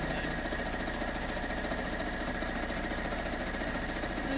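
A sewing machine stitches a quilt block with a quarter-inch foot, a fast, even mechanical rattle running steadily and close throughout, with no talk.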